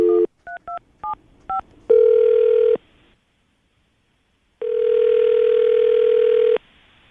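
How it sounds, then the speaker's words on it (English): A telephone call being placed: a rapid series of short touch-tone dialing beeps gives way to two long, steady ringback tones separated by a pause of silence, clear and close, with no voices. "we're going to call her right now, see if we can get her on the phone"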